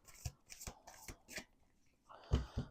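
Playing cards slapped down one at a time onto a table, several crisp separate taps in an uneven rhythm, close and fairly quiet.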